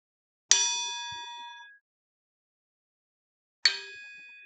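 A metal object is struck twice, each hit giving a clear bright ding that rings on and slowly decays, the first ringing out for over a second before a silent gap and the second strike.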